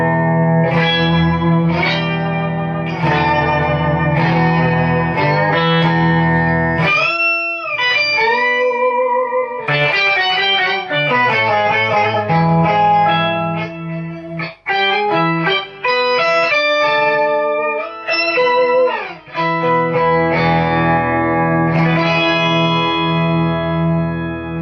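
Electric guitar played through a pedalboard of heavy effects, producing a sustained, swirling church-organ-like tone with chorus and reverb, loud and continuous with brief breaks between phrases.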